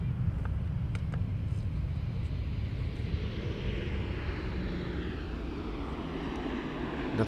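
An airliner on its landing roll at Schiphol Airport, spoilers deployed, gives off a steady broad jet roar that slowly settles, heard from a distance as a continuous outdoor rumble with no voices over it.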